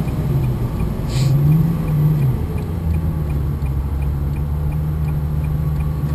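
Ferrari 360 Spider on the road, its engine a steady low drone heard from inside the car with a brief rise in pitch as it accelerates early on, then a constant cruising hum.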